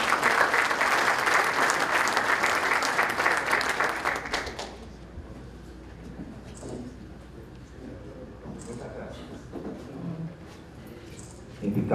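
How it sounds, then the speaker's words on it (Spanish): A burst of dense audience applause at a university credential ceremony, loud for about four seconds before stopping abruptly, followed by quieter room sounds and faint scattered noises. "Una vez más, por favor, esas palmas para el señor decano."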